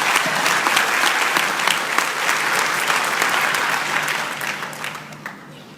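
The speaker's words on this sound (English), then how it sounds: "So please, help me applaud His Excellency, the President, for that stout effort." Sustained crowd applause for the President at a formal address, dense and loud at first, then gradually thinning and fading toward the end.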